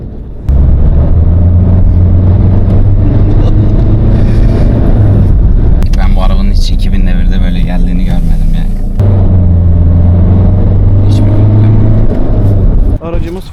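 Fiat Linea 1.6 Multijet 105 HP diesel after a stage 1 tune, engine droning loud and close as it pulls and revs, with a steady rumble, a brief shift in pitch midway and someone talking over it.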